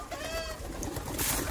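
Large pet pigeons coo close by, soft throaty calls rising over faint background rustle, with a brief burst of flapping or movement near the end.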